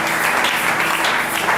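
A church congregation applauds the Lord during a Friday worship service, a dense, steady wash of clapping and cheering that fills the whole short stretch at an even level.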